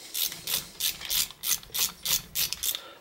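A ratchet clicks in quick repeated bursts while loosening 14 mm brake caliper bolts on a 2008 Dodge Avenger, close and crisp, about a dozen strokes in steady rhythm.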